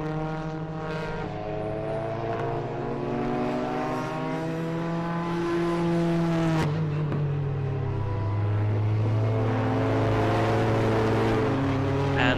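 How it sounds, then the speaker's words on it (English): TCR touring race cars on the formation lap at the Hungaroring circuit drone past as a continuous, loud engine note that slowly rises and falls in pitch, with no voices. "cars already on the formation lap for the race number one of the weekend"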